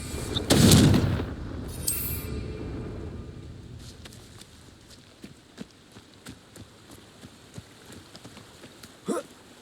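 A Confringo fire-blast spell cast in the game Hogwarts Legacy bursts loudly near the start, a roaring explosive whoosh with a crackling tail, followed by scattered light clicks and footsteps-like taps and a sharper knock near the end.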